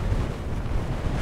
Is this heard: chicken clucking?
no